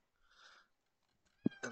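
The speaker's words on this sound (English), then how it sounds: "As you can hear, my cat Rayleigh" A pet cat meows softly in the background, one drawn-out mew followed after a pause by a sharper, louder pair of meows, with nothing else around it.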